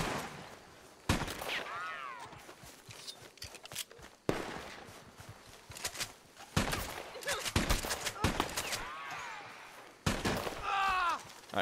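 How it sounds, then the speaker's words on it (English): Gunshots in Red Dead Online as players shoot each other at a distance, a few sharp cracks and bursts separated by quieter stretches with footsteps and ambient game sounds, someone talking over parts. "Oh, they're shooting each other over here."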